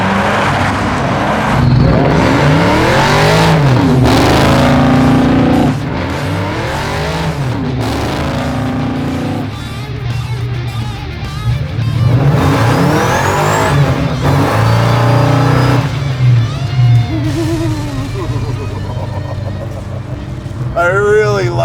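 A supercharged 1971 Chevy Nova engine roars and revs hard in repeated surges, with tires spinning and squealing, close and loud, while people talk over it.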